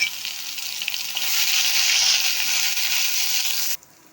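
Ground masala paste sautéing in a pan for a spiced okra dish, a close bright sizzle that swells after a second, holds steady, then stops abruptly.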